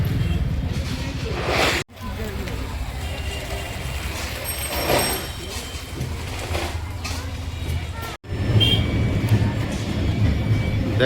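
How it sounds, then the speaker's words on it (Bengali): A train pulls into a station beside a fairground field on a school morning, its rumble and rolling clatter building under a general outdoor din, with people talking nearby and a brief high tonal whine midway. "আর দেখতে দেখতে একটা ট্রেন চলে এলো।"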